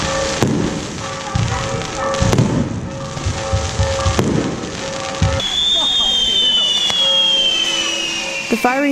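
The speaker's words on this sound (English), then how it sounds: "The fireworks were right over you, so big." Fireworks burst overhead at a Mexican Independence Day celebration in Oaxaca, a loud dense barrage of crackling booms, with a whistling rocket rising near the end and a crowd and voices underneath.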